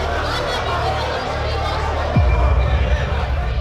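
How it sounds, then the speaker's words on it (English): A crowd of detained refugee men, women and children cries out for help in a dense, continuous babble, with a deep thump partway through and the noisy din growing louder after it. "That noise is their cries for help."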